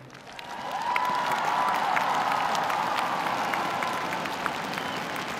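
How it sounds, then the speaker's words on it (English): A crowd at a Winter Universiade figure skating event applauds a free programme, a swelling, sustained wash of clapping and some cheering filling a large arena, steady for several seconds. "Crowd really getting into that from Guan Yuhang in 13th place"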